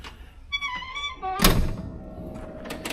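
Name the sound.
soft-close trunk latching on a 1991 Cadillac Brougham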